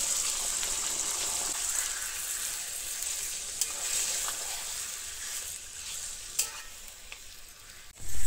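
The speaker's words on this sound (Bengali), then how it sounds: "তেলের মধ্যে দিয়ে দেবো তেজপাতা আর গোটা গরম মশলা দেব।" Bay leaves and whole garam masala sizzling in hot oil, a steady bright crackling hiss with occasional pops, ending in a louder splash.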